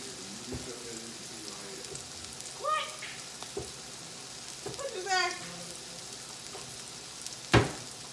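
Pan-seared salmon in a skillet in a home kitchen, a soft steady sizzle running throughout, faint and level, with a few brief voice sounds and clicks over it.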